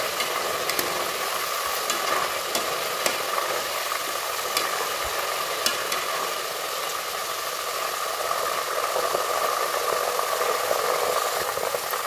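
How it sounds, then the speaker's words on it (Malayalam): Jackfruit pieces sprinkled with salt water are stirred and fried until crisp, producing a constant even sizzle close by, with scattered sharp spatula taps and scrapes against the pan. "നമ്മുടെ ചക്കപ്പൊരിയുടെ രൂപത്തിൽ നന്നായിട്ട് മുരുത്ത് വറുത്തെടുക്കണം."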